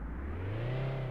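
A car engine in a Godot-built video game revs while the car tries to spin a donut and loses grip, a steady rising harmonic drone that climbs in pitch over about a second.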